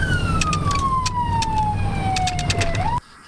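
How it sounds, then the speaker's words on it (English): Loud ambulance siren wailing continuously while the vehicle drives to an emergency call, a sweeping tone sliding steadily downward over road rumble before cutting off abruptly near the end. "Sirens on, gas pedal down."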